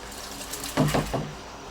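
Three kilos of rice pour into a pot of boiling water for Kabuli pulao, making a short cluster of splashing, sloshing bursts over a steady bubbling hiss.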